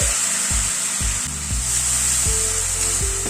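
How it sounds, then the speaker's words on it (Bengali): Spices fry in a pan for a spiced potato dish as hot water goes in, a steady loud sizzle and hiss with scattered knocks and scrapes from stirring, no talking. "সব মশলাগুলোকে দিয়ে একটু গরম জল অ্যাড করে দিচ্ছি, মশলাটা কষাতে সুবিধা হবে।"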